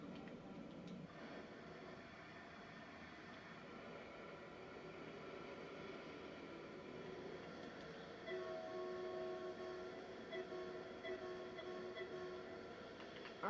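DB BR 101 electric locomotive hauling an intercity service on the Hamburg–Lübeck line in Train Sim World 2, a steady low rumbling drive with a faint tonal whine rising near the end.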